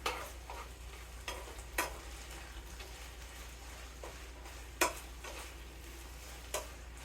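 Utensil stirring a sloppy joe mixture in a pan on the stove, with soft scraping swirls and several sharp clicks and taps of the spoon against the pan over a low steady sizzle, close and moderately quiet.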